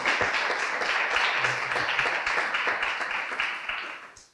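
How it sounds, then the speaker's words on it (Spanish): An audience at a summer course lecture applauds the course director and secretary in a steady, full round of clapping that fades out at the end. "yo pido un aplauso para el director y el secretario del curso"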